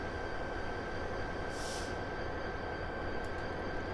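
Class 59 diesel locomotive running at about 45 mph on the Medway Valley Line in Train Simulator 2018, a steady low rumble of engine and wheels with a constant high whine and a brief hiss partway through, no talk.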